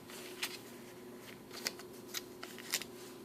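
Paper post-it notes are folded by hand for a junk journal, giving a run of soft, crisp crinkles and creases at irregular intervals over a quiet room hum.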